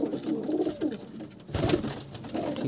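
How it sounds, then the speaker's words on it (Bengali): A female Matrasi pigeon coos in soft, repeated throaty rolls close up, with a louder burst midway and no talk. "এটা ওরই জোড়া ফিমেল পায়রা, ম্যাট্রাসি পায়রা"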